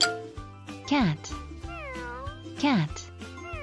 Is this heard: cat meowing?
yes